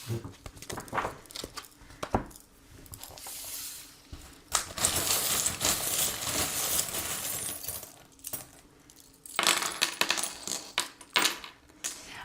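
Small charms tossed and scattered for a divination reading, giving several loose clinking, jingling bursts with short pauses between them, fairly close and with no voice over them.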